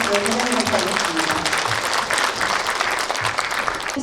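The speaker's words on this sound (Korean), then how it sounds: "선열들의 깊은 뜻을 잘 전달해준 두 학생에게 다시 한번 따뜻한 박수를 보내주시면 감사하겠습니다" Audience at a Gyeongsangbuk-do ceremony marking the 107th anniversary of the Korean Provisional Government, giving sustained warm applause that fills the hall, dense and steady throughout with a voice faintly underneath.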